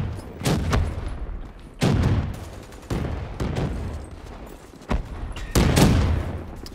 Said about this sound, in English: Just non-stop explosion after explosion.